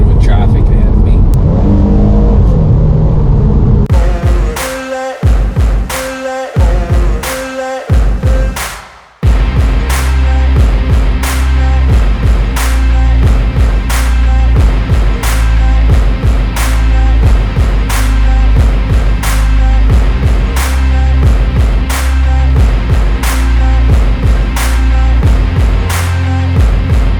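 A 2024 Lexus IS300 AWD with a naturally aspirated six-cylinder engine drives in traffic, its engine droning steadily and loudly from inside the cabin, with a brief drop in level before it settles into a constant hum under talking.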